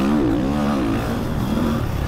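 A quad ATV engine in the motocross racing game MX vs ATV revs with a steady, buzzy drone that rises and falls in pitch, loud and close with no talking.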